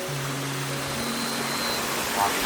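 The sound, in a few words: forest stream flowing water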